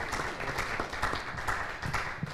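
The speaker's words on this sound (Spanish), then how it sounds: "Aplauso para América Dayana Antigua Rosario" Steady applause from an audience at a tenth-anniversary parents' academy event, continuous dense clapping filling the room with no voices over it.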